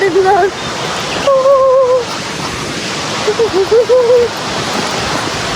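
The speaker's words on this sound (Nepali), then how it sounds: "झरना पुग्छु न यस्तो राम्रो छ" Steady rushing water from a waterfall in a forest fills the background while a person speaks over it in short bursts.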